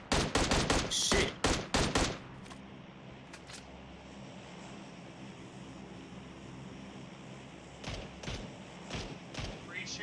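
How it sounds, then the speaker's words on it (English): Rapid bursts of video game gunfire crackle loudly for the first two seconds, then fall away into a steady engine-like drone, with a few more sharp shots returning near the end; voices talk over the action. "Where are you shooting at, Mans?"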